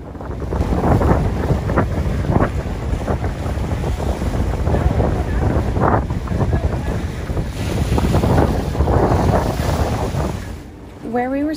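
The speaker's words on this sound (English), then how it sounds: "because of the nor'easter that was blowing through, water was actually coming up over the seawall" Strong nor'easter wind roars across the microphone while choppy water slaps and surges against a seawall in St. Augustine, Florida, a continuous loud, gusty wash with bursts of splashing close by.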